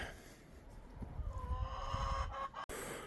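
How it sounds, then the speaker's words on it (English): Chickens clucking softly in a low, busy murmur in snowy winter Alaska, with occasional higher calls rising over the steady background noise. "Got a path to the chickens, just fed them."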